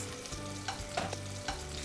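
Oil sizzling in a frying pan over high heat while bean sprout peperoncino is cooked, a steady close crackle with a few sharper pops scattered through, no voices.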